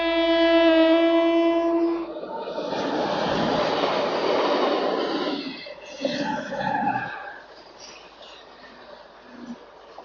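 A train passes over a railway track near Srirangapatna, a horn sounding first, then a loud broad rumble of carriages rolling by for several seconds before fading, with traffic noise afterward.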